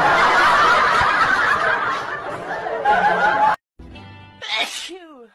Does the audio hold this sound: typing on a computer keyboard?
no